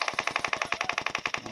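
Rapid automatic gunfire from the BGMI (PUBG Mobile) battle royale game, a steady burst of evenly spaced shots in quick succession, loud and close with no pause.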